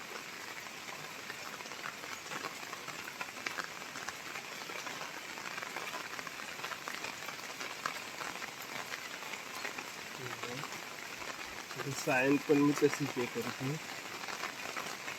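Steady rain falls outdoors during mango grafting work, a continuous soft hiss filling the background, with someone speaking briefly over it near the end.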